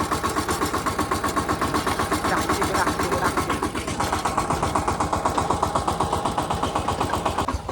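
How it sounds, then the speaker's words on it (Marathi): A tractor engine runs in low gear with a rapid, even chugging pulse, loud and close throughout, steady rhythm with a slight shift midway. "आणि लो मध्ये निघालो मी हळूहळू करत असं निघालो ट्रॅक्टर"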